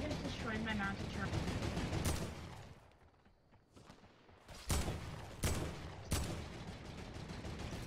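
Sniper rifle gunfire in the Fortnite video game, a few sharp separate shots spaced about a second apart, loud and close over game noise, with people talking before the shots.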